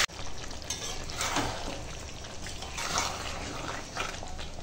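Chicken, fried potatoes and garam masala powder sautéing together in a pan, giving a steady, close sizzle with soft stirring scrapes throughout and no talking.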